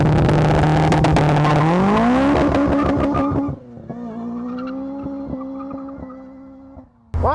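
A supercharged Honda Civic EP3 Type R is driven hard, its engine screaming as it revs climb through a gear, then briefly drop at a shift before pulling strongly again; loud, close and continuous, with no talking.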